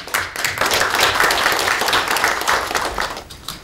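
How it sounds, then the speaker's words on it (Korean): An audience claps steadily and loudly to open a public presentation event about early-retirement cases, a dense crowd applause that fades slightly near the end, with no speech over it. "오늘 희망퇴직 이대로 좋은가 희망 없는 절망퇴직 사례 발표 대회를 박수와 함께 시작하도록 하겠습니다."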